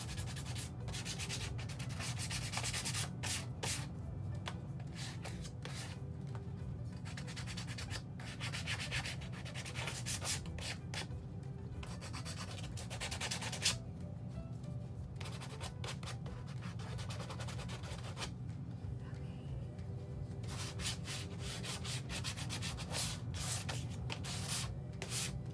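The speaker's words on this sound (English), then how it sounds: "I just wrap my piece of sandpaper around it" Steady back-and-forth rubbing of sandpaper wrapped around a sanding sponge on a 2x4 wood piece, a continuous scratchy hiss in repeated strokes with brief pauses, close by and without talk.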